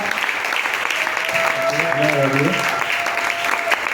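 Church congregation applauding and cheering in acclamation, steady clapping with a brief voice rising over it, moderately loud and close.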